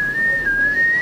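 A beatboxer imitates a whale's whistle with the voice alone: one sustained, high, pure whistle tone that holds steady and shifts pitch only slightly for about a second, close and clear.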